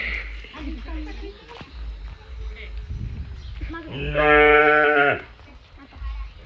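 A calf lets out one loud, drawn-out moo partway through, rising above nearby talking and low background rumble.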